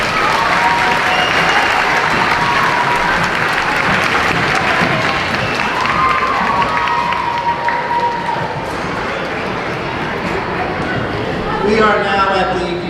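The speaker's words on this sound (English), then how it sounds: "Let's give them another round of applause." Dense, sustained applause from an audience at a 5th grade moving-up school ceremony, loud and continuous with scattered cheers and children's shouts mixed in throughout.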